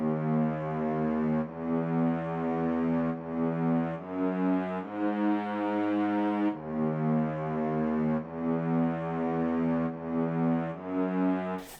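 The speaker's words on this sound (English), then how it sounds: "the low notes from the string melody ended up sounding like this" Low notes of a string melody within a beat, a sustained, mellow bass-register line moving through slow phrases of held tones, fairly quiet and alone with no voices.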